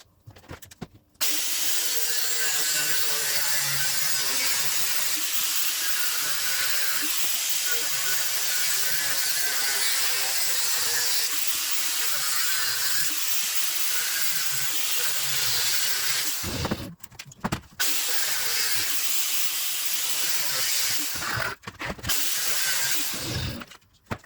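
A power tool cuts through the factory dash gauge panel of a Holden Torana, giving a loud, continuous, hissing grind for around twenty seconds, broken by a few brief pauses, with no talking.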